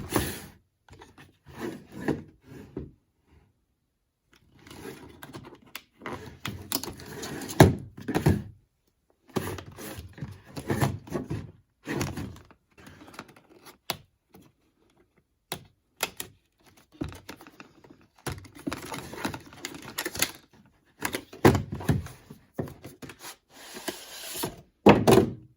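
A Wahl haircutting kit box being opened, with close, irregular bursts of cardboard rubbing, tapping and rustling broken by short pauses.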